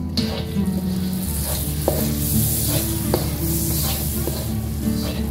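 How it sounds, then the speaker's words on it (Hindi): Butter melts in a pan for white sauce chicken pasta, a loud, close, steady sizzle with a few soft stirring knocks and a low hum underneath, before flour is added. "तो अभी ये हमारा मेल्ट हो रहा है बटर, अब हम इसमें ऐड कर देंगे ये मैदा।"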